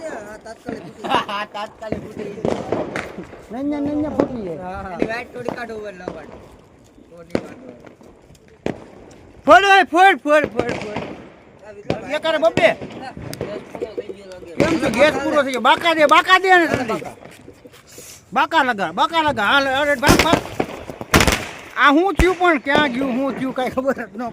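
Diwali firecrackers burst outdoors in scattered single and doubled cracks, a few loud bangs spread over lively, near-continuous talking and calling among a group.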